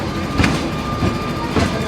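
A tram rolling through the town of Soller, a steady rumble with rhythmic wheel clacks repeating about every half second to a second, fairly close and continuous, with faint voices in the background.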